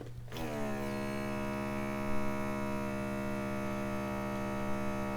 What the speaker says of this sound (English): I got this little vacuum from Food Server.